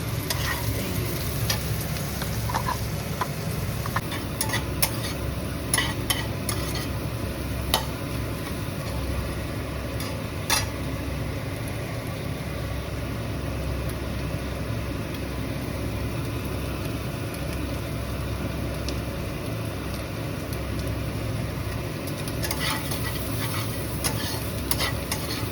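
Three boiled eggs frying with vegetables and spices in a pan, a continuous close sizzle with scattered clicks of a stirring spoon, no one speaking.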